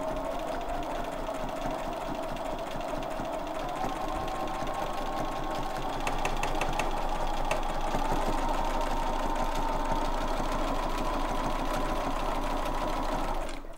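Sewing machine stitching free-motion quilted feathers in a quilt-as-you-go block, a steady fast buzzing hum running throughout at moderate level, picking up slightly in the second half, with no talk.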